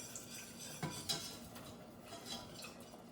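A whisk scrapes through thick cheese sauce in a pan made with browned butter, giving soft repeated metallic clinks and scraping with no talk.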